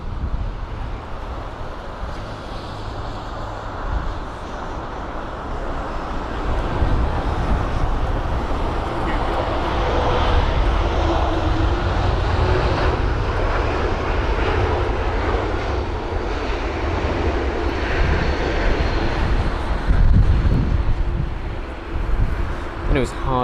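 A jet airliner, an Airbus A220-300 landing in strong wind at London Heathrow, roars steadily and swells louder as it passes, mixed with gusty wind noise and some muffled voices.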